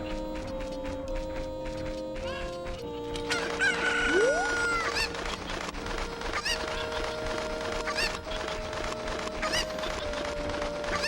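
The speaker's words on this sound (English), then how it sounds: "I hear chickens." Chickens clucking and a rooster crowing in the video game Ocarina of Time, layered over steady tonal game music and clip-clopping hooves, with repeated close clucks throughout and no talking.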